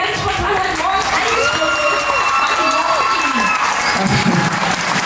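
A crowd at a social media stage event claps steadily throughout, with some cheering. A voice speaks over the applause.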